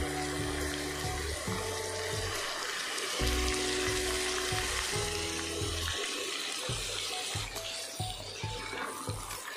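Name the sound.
marinated beef frying with fried onions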